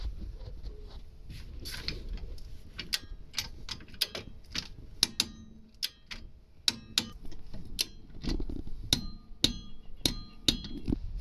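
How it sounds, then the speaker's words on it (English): A torque wrench tightens the rear brake caliper bolts to 65 Nm on a Toyota Aygo, Peugeot 107 or Citroen small car. Faint, sharp clicks and taps repeat irregularly over a quiet garage background. "So these two bolts at the back get down to 65 Newton meters."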